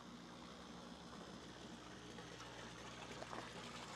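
Water flows steadily through a hillside aquaponics tank system that feeds a fish tank, a faint continuous trickling and splashing with a low background hum and no talk.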